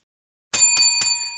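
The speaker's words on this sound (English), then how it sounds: "there's the bell, so we know what that means." A bright bell rings to close a wrestling podcast: three quick, loud metallic dings after silence, with the tone ringing on clearly and alone.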